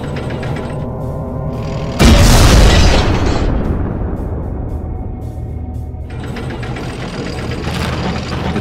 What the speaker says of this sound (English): I hope no one would hear the explosion.